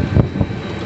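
Strong wind buffeting a microphone on a boat, a short, loud, low rumbling gust with two heavy thumps, no voices.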